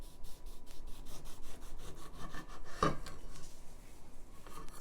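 A knife cuts fruit into slices for a cocktail, giving a faint, close series of rhythmic scraping strokes with a sharper tap near the middle.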